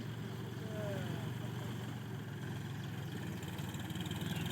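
A tractor engine runs in a farm field being worked before sowing RNR paddy seed, giving a steady, close droning rumble that holds unchanged throughout.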